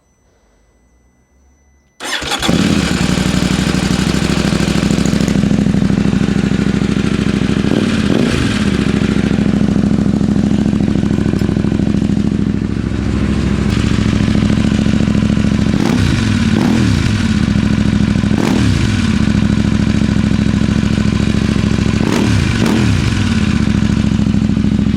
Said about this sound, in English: I need to pop it out and you can hear the sound directly